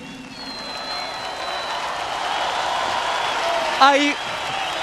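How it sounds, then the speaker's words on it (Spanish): Audience applause and crowd noise at the 2008 Festival de Viña del Mar concert, a steady wash of clapping beneath someone speaking, with a brief louder burst near the end. "muchas gracias por vuestros aplausos"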